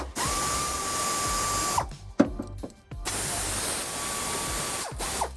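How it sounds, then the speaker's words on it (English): Two bursts of rapid ratchet clicking with a tool whine as a 12mm socket removes bolts from a 2017 Kia Optima, separated by a brief pause and small metallic clinks, fairly close. "I'm removing these with a 12mm socket."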